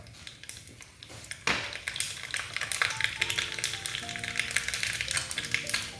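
Half a teaspoon of mustard seeds frying in hot oil for a Kerala sweet mango curry, crackling and popping in rapid irregular bursts over a steady sizzle, close and busy, with faint kitchen clinks.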